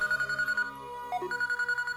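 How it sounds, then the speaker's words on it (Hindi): Telephone ringing in a Hindi-dubbed action movie, a steady electronic ring repeating in quick pulses with a brief break partway through, fairly loud and alone. "फोन उठाओ बेटी"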